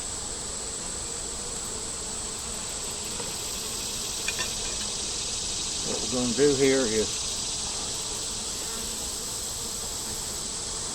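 Honeybees buzz steadily around an open hive during an inspection, with a smoker in use nearby; someone speaks briefly partway through over the constant swarm drone.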